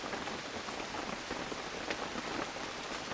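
Steady rain falls outdoors at a clay-walled cordwood building site, a soft, even patter of drops that continues without a break.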